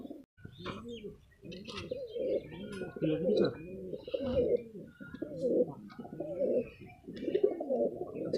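Pigeons coo steadily and close by, with soft repeated throaty calls overlapping each other, while a few faint chirps come through in the background.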